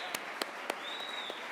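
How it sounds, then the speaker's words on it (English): Steady applause from the audience at a Montana FFA state convention general session, with a few louder individual claps standing out over the dense wash of clapping and a faint tone running through the middle. "Let's give this outstanding individual one more round of applause as we welcome him to the podium to say a few words."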